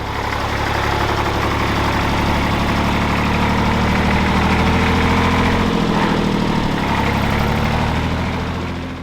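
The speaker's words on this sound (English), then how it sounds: "This 57 Porsche tractor, the 133 model, features the 42 horsepower air-cooled diesel 3-cylinder engine." A 1957 Porsche 133 tractor's 42-horsepower air-cooled three-cylinder diesel idles steadily close by, a loud throbbing drone with an even beat that changes only slightly near the middle, and no voices.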